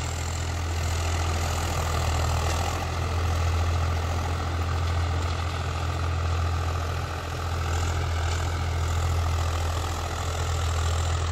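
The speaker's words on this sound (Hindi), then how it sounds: "बढ़िया चल रहा है ट्रैक्टर।" A new Swaraj 744 XT tractor engine runs at a steady idle, a heavy low diesel rumble with a faint knocking texture, loud and unbroken for the whole stretch.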